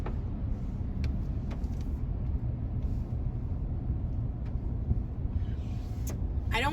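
Steady traffic on a Portland street lined with homeless camps, a continuous low rumble of cars rolling past at moderate distance, with a few faint higher squeaks and clicks over the constant drone and no one talking.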